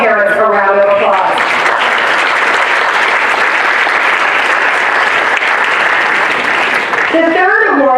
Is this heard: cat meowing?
no